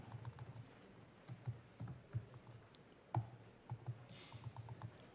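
Irregular bursts of computer keyboard typing during a conference talk on a static analysis framework, faint clicks and taps in short clusters with pauses between.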